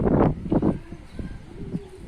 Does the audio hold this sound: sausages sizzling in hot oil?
no